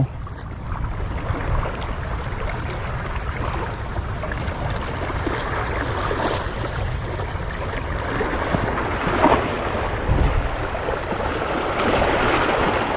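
Steady rushing noise of rain and gusting wind, a broad continuous roar with occasional louder buffets, no voices.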